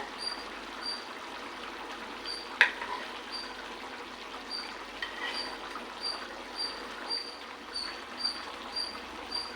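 Taro and egg curry simmering in a pot, a soft continuous bubbling hiss with small irregular pops and one sharper click, close and fairly quiet, no voices.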